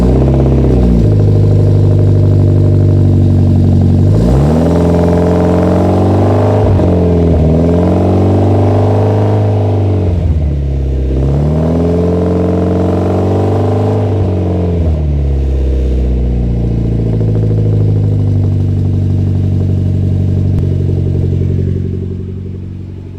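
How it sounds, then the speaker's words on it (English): A Mitsubishi Evo X with an FQ400 vent cold-starts outdoors, recorded from outside the car: the engine catches with a rev flare, then settles into a loud, steady idle with a couple more swelling revs before cutting off. "I'll get you guys a cold start, so from the outside"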